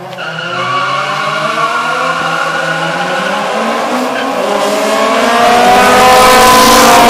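Honda street race cars launching and revving, a loud harmonic engine whine climbing in pitch with tire screech and a roaring build toward the end, people talking faintly underneath.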